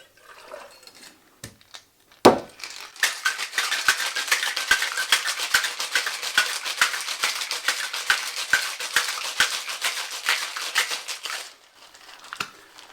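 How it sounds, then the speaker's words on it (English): A peanut butter cocktail shaken hard with ice in a metal tin: a brief clatter as it starts, then about nine seconds of dense, continuous rattling and sloshing, close and loud, ending abruptly with a final knock. "Get some ice in our tin and shake it up."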